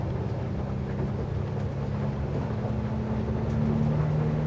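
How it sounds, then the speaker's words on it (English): A steady low engine hum from a Cutwater C-32 boat drones beneath a constant wash of water against the hull, even and continuous with no talking. "I can hear kind of the hum of the engines behind us and the water on the hull bottom"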